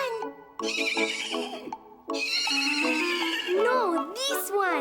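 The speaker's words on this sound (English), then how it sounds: "So they went to the stables, where they found a horse that was gentle, strong, and sound." A horse whinnies loudly in a stable setting from an animated children's story, with several drawn-out, wavering neighs across the clip and voices briefly talking over them.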